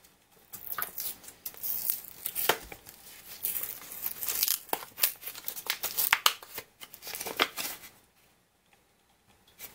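A paper packet of Venus flytrap seeds is ripped open and crinkled by hand, close and crisp, with bursts of tearing and rustling for several seconds before falling quiet.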